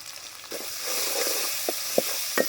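Ginger and turmeric fry in a pan for a village-style chicken curry, giving a steady soft sizzle with a few brief crackling pops toward the end.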